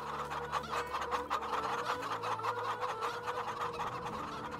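Loud, continuous clucking from a flock of chickens in Farming Simulator 22, with overlapping bird calls and a steady low drone underneath, no voices.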